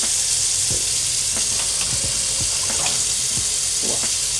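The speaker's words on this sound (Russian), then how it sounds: "Набирается водичка." Tap water runs steadily into a bathroom sink in a modern apartment, a continuous hiss with small splashes and gurgles as the basin fills, close and fairly loud, no talking.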